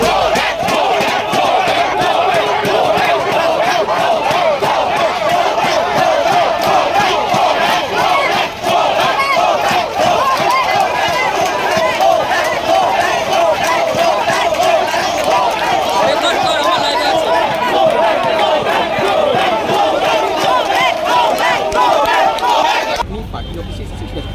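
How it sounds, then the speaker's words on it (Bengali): Dense crowd of junior doctors chanting a protest slogan in unison at a political figure, loud and continuous with overlapping shouting voices throughout, cutting off abruptly near the end. "চিকিৎসকেরা অগ্নিমিত্রা পলকে দেখাকালীনই গো গোব্যাক স্লোগান দিতে থাকে"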